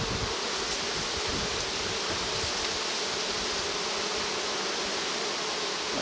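Honey bees swarm and buzz steadily around an open hive box during fall hive work, a dense, continuous hum close by with no voices.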